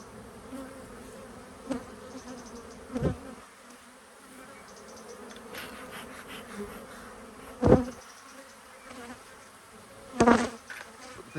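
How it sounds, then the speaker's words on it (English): Honeybees buzz around an open hive during a spring inspection, a steady low drone with occasional louder passes as single bees fly close to the microphone, no talk. "the bees aren't particularly bothered about me being here, which is great."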